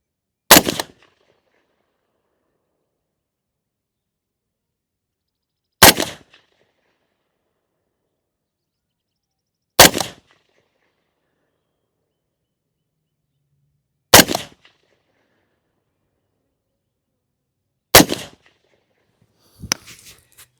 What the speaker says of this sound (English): we are going to shoot some 110 grain Hornady VMAX loads